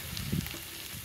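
Prawns frying in hot oil with chili powder in a home kitchen pan, a steady close crackling sizzle with a few louder spits, no voices.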